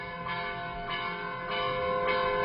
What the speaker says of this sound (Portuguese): Os sinos têm uma música própria, o repique ou o dobre.